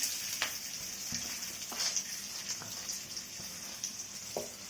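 Urad dal and chana dal sauté in oil in a pan for mint chutney, giving a steady, soft crackling sizzle broken by occasional light clicks and scrapes of stirring.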